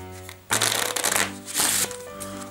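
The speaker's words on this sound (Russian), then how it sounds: "Так вот, мы попролистываем все наши колоды." A deck of playing cards is riffled and flipped through during a card magic routine, giving a dense rapid fluttering burst that pauses briefly and resumes, close and fairly loud, with no talk over it.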